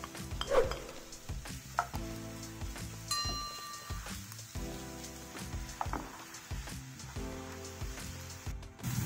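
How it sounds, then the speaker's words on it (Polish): Onion frying in coconut oil in a pan, a quiet sizzle with stirring clinks and scrapes of a utensil against the pan, close and intermittent. "Cebulkę smażę jakieś 2-3 minuty i później odstawiam ją do przestudzenia."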